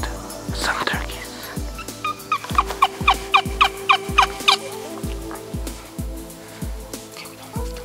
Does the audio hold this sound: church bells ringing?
no